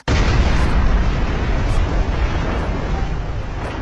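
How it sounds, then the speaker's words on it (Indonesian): A sudden loud blast in a house yard followed by a sustained, rumbling roar that slowly fades, heavy and close. "terdengar suara ledakan di halaman rumah"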